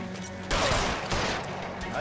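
Rapid gunfire from a shootout in the game L.A. Noire, a burst of loud, close shots kicking in suddenly and rattling on amid chaotic background sound and some talk.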